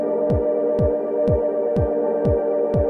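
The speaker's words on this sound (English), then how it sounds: "I'm gonna feedback left into right really hard, just to grab texture." A Meraki analog delay pedal is pushed hard into feedback, giving a dense, sustained droning wash with a steady low throb pulsing about twice a second, loud and continuous.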